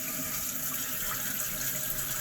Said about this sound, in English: And then you turn your water on, fill your tank.